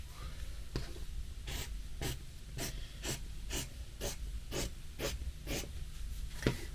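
Scissors cut fabric for a blouse pattern in about a dozen evenly spaced crisp snips, close and fairly quiet, with no talking.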